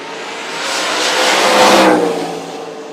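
A turbocharged G-body car roars down a drag strip against a Camaro at a no-prep drag race, one loud engine rising and falling in a single close pass.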